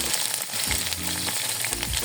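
Chopped onion and green chillies frying in oil that already holds bay leaf, cinnamon and cloves, a loud continuous sizzle and crackle close by with occasional stirring scrapes, no one talking.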